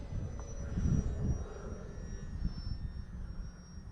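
An RC F4U Corsair model airplane with an electric motor takes off and flies. Its motor whine is steady and moderately loud, and the sound fades slightly as it climbs away. Nobody talks.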